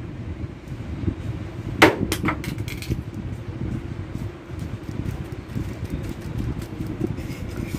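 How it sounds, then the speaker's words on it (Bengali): A sewing machine stitches fabric along drawn guide lines, making a continuous low whirring motor hum with one sharp clack early on and a few lighter clicks afterward, close and fairly loud. "আমি পরপর সব কয়টা সেলাই করে নিচ্ছি"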